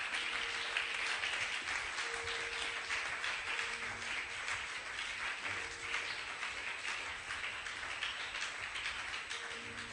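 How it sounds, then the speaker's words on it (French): A church congregation claps and applauds the Lord during worship, a steady dense wash of hands that is fairly loud and unbroken throughout, with no speech over it. "Acclamons très fortement le Seigneur."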